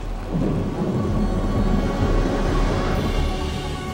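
Steady rain falling in the largest national park in Chilean Patagonia, a continuous dense hiss with a deep low rumble underneath, loud and close, with no voices.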